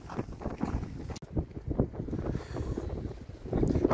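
Strong, cold wind of about 80 kilometers an hour at Vesturhorn in Iceland buffets the microphone with a constant roaring rumble that swells louder toward the end.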